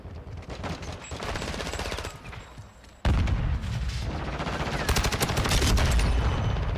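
Rapid gunfire from the video game Call of Duty MW2, dense bursts of automatic shots that grow louder and more sustained halfway through, with no voices over it.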